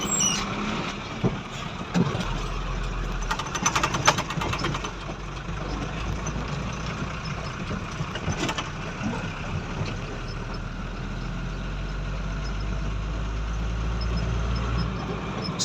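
An auto rickshaw engine drives past on a road, a steady, moderately loud droning rumble with light rattles and clatter throughout.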